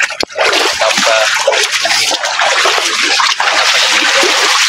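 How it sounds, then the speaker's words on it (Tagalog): Constant, loud splashing and sloshing as people wade through water at Stampa in Pasacao, Camarines Sur, with voices talking over the churning water. "Dumaan na kami sa tubig."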